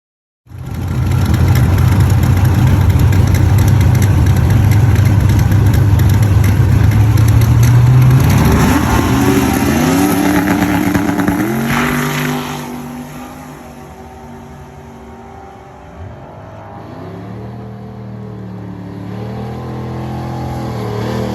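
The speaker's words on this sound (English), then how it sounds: "About to make our first pass." A twin turbo Chevrolet S10 truck roars off on its first pass, loud sustained engine drone climbing through rising gear pulls and then easing back to a lower, steadier hum in the distance.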